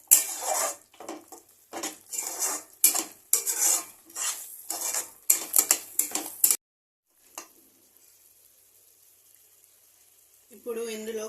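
A spoon stirring kofta mixture with mint and coriander in a metal pan, a run of rhythmic scraping and clinking strokes up close, then near silence and a faint scrape again at the end.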